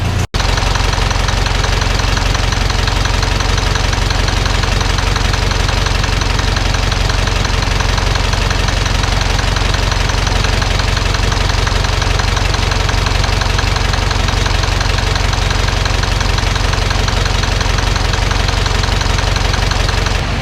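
A Zetor 7711 tractor diesel engine idles close by, its loud, steady chugging rumble unbroken for the full twenty seconds with no voices.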